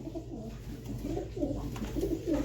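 Pigeons coo softly in a low, rolling rhythm, several calls repeating close by over a steady background hum.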